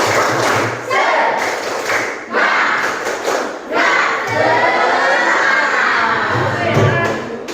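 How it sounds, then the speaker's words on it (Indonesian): Classroom of students performing a rhythmic spirit clap, loud group claps in repeated patterned bursts mixed with voices chanting and shouting together close by, continuing through. "Kita tepuk semangat dulu biar makin semangat ya"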